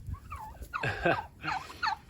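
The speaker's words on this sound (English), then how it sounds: "We love the gobbles and different sounds that the turkeys make" Midget White turkeys gobble in two or three quick, warbling bursts with short gaps between them, close by and fairly clear against a quiet outdoor background.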